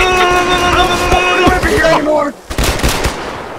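Gunfire in Arma 3, rapid loud bursts of automatic weapon shots with ringing tonal tails and a few sharp single cracks, close and dense before a brief lull and more scattered shots.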